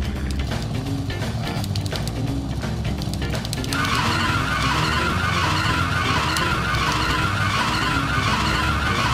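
Motorbike tires skidding in the video game No More Heroes, a continuous loud screech with engine roar and game music underneath, growing harsher partway through.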